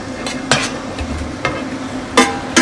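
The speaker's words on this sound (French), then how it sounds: "On va faire griller le chevreuil." Venison sears in boiling butter in a pan, a close crackling sizzle broken by several sharp scrapes and clinks of a utensil stirring and turning the meat.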